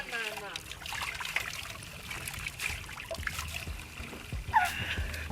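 Cold mountain water trickles from rock in the Swiss Alps at Schwägalp, dribbling softly close by, a light continuous splashing with faint background noise.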